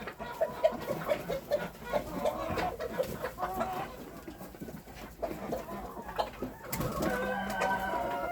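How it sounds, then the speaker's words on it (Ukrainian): A hen settling to brood makes soft, repeated clucking calls among other farmyard fowl, a steady busy flock chorus with a few louder calls, heard close by. "вже почала квокати оця курочка"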